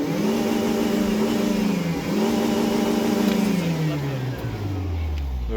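A Škoda Felicia engine revs up and down, a droning mid-pitched roar rising and falling over several seconds, close to the car, with excited voices in the background.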